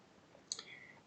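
A single short, sharp click sounds once near the middle, faint and close, like a mouse click while paging through a document, with only low background hiss around it.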